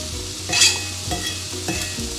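Spinach cooking in a pan for a healthy quesadilla, a continuous close sizzle broken by a few scraping stirs of the utensil, with no speech.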